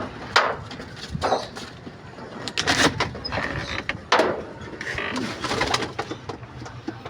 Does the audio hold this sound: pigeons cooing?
yes